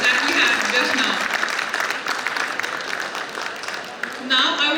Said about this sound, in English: Can we have a big round of applause for this inspiring session that we had just now?